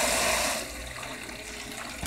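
Tap water runs steadily into a sink while a child's snack tray is rinsed, a loud continuous rush that swells at the start and then settles a little lower, with no talking.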